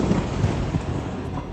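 A low rumble of thunder rolls through a storm near the ocean, heard from inside a car, a dense, steady roar with a faint swell in the middle and no voices.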